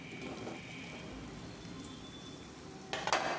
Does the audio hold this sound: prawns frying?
yes